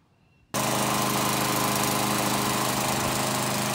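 An old lawnmower engine starts up abruptly after a quiet moment, then runs loud and steady close by with a dense, rough mechanical drone and no talking.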